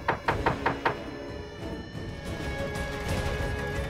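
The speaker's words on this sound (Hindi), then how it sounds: "कब से रूम खटखटा रहा हूँ" Five quick knocks sound on a room door close by, evenly spaced in a short burst, followed by a low hum of background noise.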